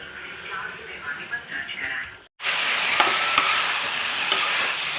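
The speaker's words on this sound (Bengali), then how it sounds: "এই যে কষানো চলছে এখন ফুলকপি, আলু" Cauliflower and potato curry being sautéed in a pan, a steady sizzle with scraping stir strokes that drops out briefly and then returns louder and close.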